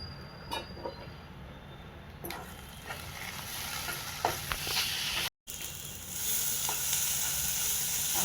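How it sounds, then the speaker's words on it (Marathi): Homemade masala fries in oil for a fish curry, a steady soft sizzle with occasional stirring clicks, briefly cut off by a gap of silence before the frying hiss returns a little louder. "बघा या मसाल्याला पण आपण तेल सुटेपर्यंत परतून देऊयात."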